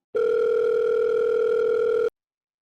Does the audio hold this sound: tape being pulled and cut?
no